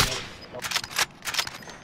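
Rapid gunfire in the video game Rebirth Island: dense, crackling bursts of shots, one after another, loud and close, with only brief dips between the volleys.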